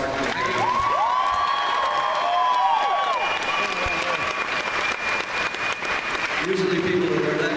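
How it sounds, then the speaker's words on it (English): A fan panel audience at the 2014 Edmonton Expo breaks into applause and cheering for Alice Cooper, the clapping mixed with a few whoops and voices, lasting several seconds with some tonal sounds over it. "I want you guys to give Alex Cooper a big round of applause for coming."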